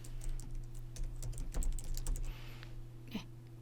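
Fingers typing on a computer keyboard while entering data in an Excel exam exercise, giving a run of quick, irregular key clicks over a low steady hum.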